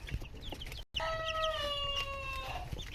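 Young chickens cluck and cheep in a poultry enclosure, with one drawn-out crow-like call sliding down in pitch over a steady background of farmyard clucking.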